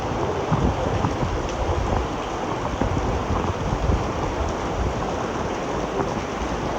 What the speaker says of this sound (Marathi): आज खूप जास्त पाऊस आहे